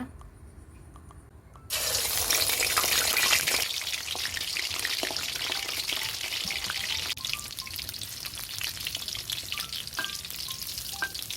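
Fermented fish sausage sizzles loudly in hot oil, the frying bursting in abruptly after a quiet moment and continuing steadily, with occasional stirring sounds.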